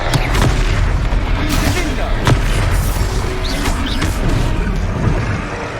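Confringo fire spells burst in Hogwarts Legacy during a battle, throwing out repeated booming explosions over a constant roar of combat noise, with a voice heard faintly in the mix.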